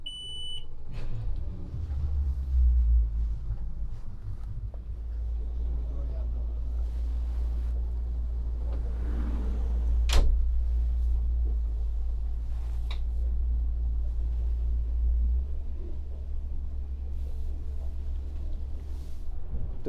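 A Nimbus C9 motorboat under way on open water, with a steady, deep engine drone, wind buffeting the microphone and water rushing past the hull throughout.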